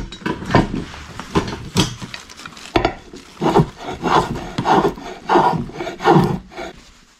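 A tool scrapes and shaves the sapwood of a wooden bow stave in repeated rhythmic strokes, each a short rasping rub, loud and close with a brief pause between the bursts.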